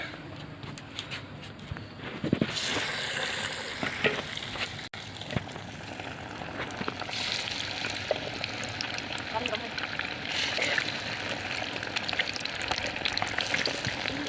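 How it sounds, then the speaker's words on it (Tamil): Halved eggs coated in masala fry in oil for spicy egg 65, a continuous crackling sizzle with occasional stirring and clatter, steady at moderate level. "ரெண்டாக அறுத்து வச்ச முட்டையை மசால் தடவி எண்ணெயில் பொறிச்சிக்கலாம்"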